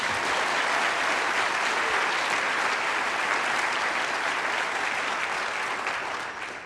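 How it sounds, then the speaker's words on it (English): An audience applauds at a NASA event unveiling an asteroid sample, a dense, sustained round of clapping that fades slightly near the end, with no talking. "We can clap for that."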